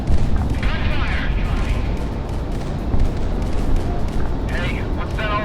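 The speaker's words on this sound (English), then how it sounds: "Gunfire!" Heavy gunfire and booming blasts rumble through aerial combat in the flight video game Project Wingman, dense and continuous, with a few sharper bursts standing out and faint voices running underneath.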